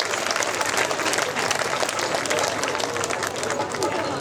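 A crowd at a public gathering applauds loudly to welcome a guest, a continuous close wash of many hands clapping with voices underneath.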